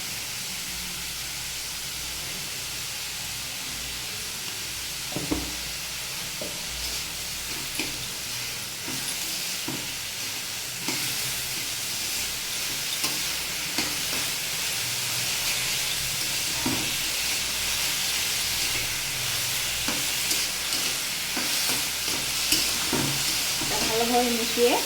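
Beetroot and potato fry in a pan with salt and turmeric, giving a steady, close sizzle, while a utensil stirs and scrapes intermittently through the hissing.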